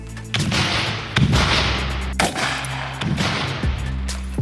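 Several VOG grenade blasts go off in quick succession, loud booming cracks spaced roughly a second apart over a rumbling background.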